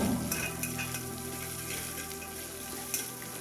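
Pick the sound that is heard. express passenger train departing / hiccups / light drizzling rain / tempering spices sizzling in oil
tempering spices sizzling in oil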